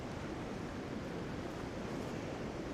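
Wind gusting across an open disc golf course, a dense, steady rushing roar buffeting the microphone, loud and unbroken throughout with no voices.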